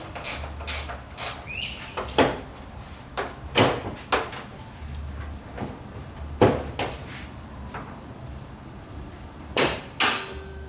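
A new fiberglass hood on a Nissan Cefiro being lowered and shut repeatedly while trying to get it to latch, a series of close hollow thuds and clunks at irregular intervals, with no talk.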